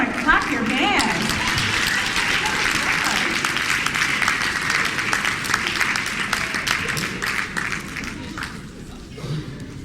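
An audience at a women's conference in a Sheraton hotel ballroom in Los Angeles claps hands, a sustained crowd clapping with cheers and voices mixed in that thins out near the end.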